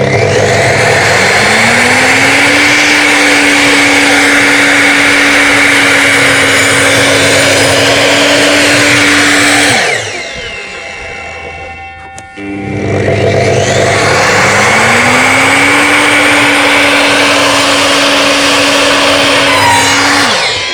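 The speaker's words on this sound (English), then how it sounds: "Move the miter saw the other way, 45 in the opposite direction." Miter saw cutting wood, two passes: the motor spins up to a loud steady whine, holds for several seconds, winds down into a brief quiet gap, then revs up again for a second equally loud cut.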